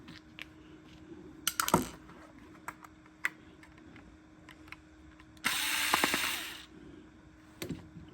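A screwdriver with a long six-inch Phillips bit works screws out of a Bostitch stapler, heard as small ratcheting clicks and taps, with a sudden burst of brief whirring near the end.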